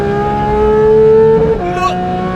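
Porsche track car with a race engine revving hard to a high, steady pitch, then hitting the fuel cut-off and dropping abruptly, loud and close.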